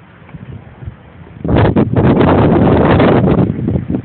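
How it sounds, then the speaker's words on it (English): Strong outdoor wind buffets the microphone, starting as a faint hiss and swelling into loud, steady broadband roaring and gusting from about a second and a half onward, with no voices over it. "It's windy, huh?"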